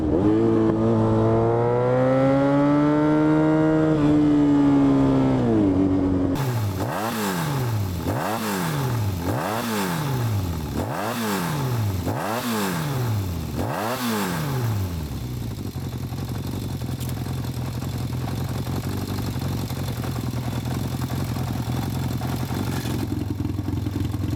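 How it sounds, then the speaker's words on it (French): A Yamaha XJ motorcycle with an open exhaust idles with a rough drone, then is blipped through a run of sharp, repeated revs that rise and fall in quick succession before settling back to a loud, steady idle. "Alors on l'entend chanter le XJ là."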